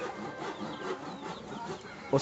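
Free-range chickens cluck softly nearby at a nest in short, overlapping bursts, with a faint murmur of a voice and a brief knock near the end.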